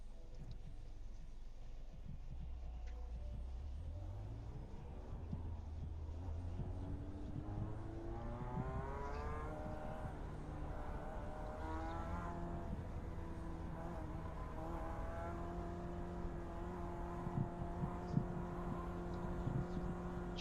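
Mazda Miata and Clio race cars in the video game iRacing, engines droning and rising in pitch through gear changes, several cars close together, with a steady low rumble underneath.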